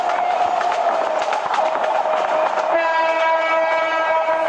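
Train in the Train Simulator Bangladesh video game, a steady rumbling run with a sustained tonal horn blast that sounds through and grows stronger toward the end, no voices.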